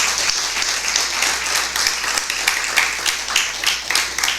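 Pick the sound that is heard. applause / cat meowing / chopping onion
applause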